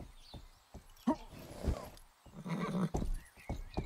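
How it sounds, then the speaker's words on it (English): A horse in the video game Rustler gives a whinny among scattered clip-clop hoofbeats and rustling, with the sounds mixed at low level and no talk over them. "Can we take one of these horses?"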